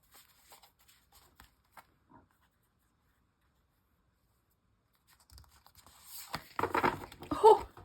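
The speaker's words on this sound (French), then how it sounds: "Donc, je coupe une fois, ça. Et je pige ma carte." An oracle card deck being cut and a card drawn, soft scattered taps and slides at first, then a quiet pause and a closer, louder flurry of card shuffling and paper rustle at the end.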